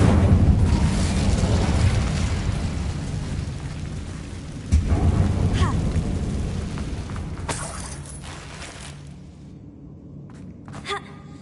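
Incendio fire spell cast in Hogwarts Legacy: a loud roaring whoosh of flame with a sharp thump midway, gradually fading over several seconds into quieter crackles and a couple of faint clicks at the end.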